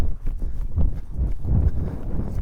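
Horse hooves walking at a steady clip-clop during a riding exercise that teaches steering, the low thuds continuous and fairly close, with no talk.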